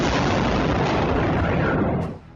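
A gas cylinder explodes in a residential flat, a loud sustained roaring blast that fills the whole moment before abruptly cutting off.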